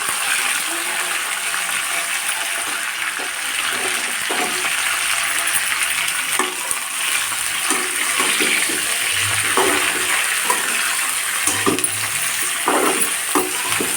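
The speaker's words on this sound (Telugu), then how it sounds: "ఇది ఇలా వేగనండి" Thinly sliced ivy gourd fries in a pan for a tindora and fresh coconut fry, making a loud, steady, broad sizzling hiss that runs throughout, with occasional soft scrapes and pops close by.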